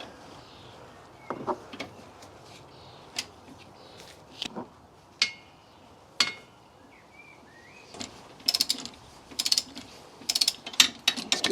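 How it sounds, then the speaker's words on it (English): Torque wrench ratcheting on the front shock bolt of a MK2 Golf, bursts of sharp metallic clicks, sparse at first then in faster clusters toward the end, close and clear with no speech. "Going to tighten our torque wrench to 75 Newton meters"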